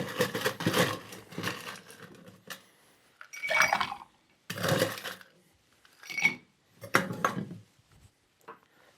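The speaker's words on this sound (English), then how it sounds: "Let's get some ice in there." Ice cubes tumbling into a metal cocktail shaker in five or six separate bursts of bright clinking and rattling, each a second or so long with brief quiet gaps, close and distinct with no speech.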